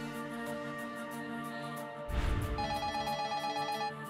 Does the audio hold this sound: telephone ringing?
yes